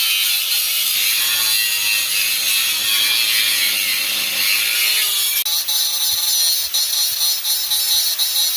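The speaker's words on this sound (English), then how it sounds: "it with an angle grinder and then a hacksaw because there's not enough room on this side." A hacksaw cuts through the exhaust pipe on a Ford Bronco in a tight spot, with steady, rapid rasping strokes that run continuously, loud and close, with no talking.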